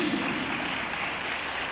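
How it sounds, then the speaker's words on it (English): An audience applauds steadily for a woman arriving at a World Rabies Day event in Kebbi, a dense continuous patter with no voices over it. "Please clap for her till she gets here."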